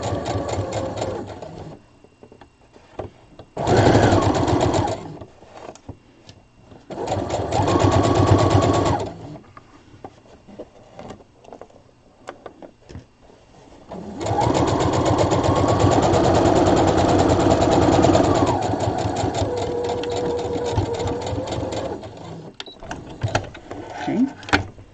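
A sewing machine stitches close to the edge of a small doll peasant top in bursts, short runs first and then one long continuous stretch, with a speaking voice in the pauses.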